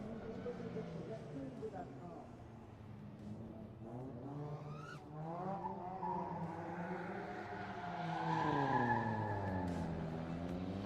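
A drift car slides with its rear end out of traction at the JK Tyre Drift Challenge at BIC, engine note rising and falling with tyres squealing, fairly faint beneath a commentator talking.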